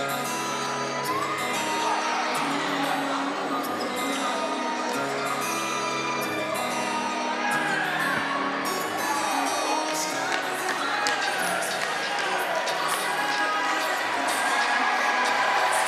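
Arena crowd at the 2022 FCSAA men's basketball championship cheers and whoops in sustained, loud celebration after Chipola's title win, a dense wash of voices, shouts and yells with a commentator talking over it.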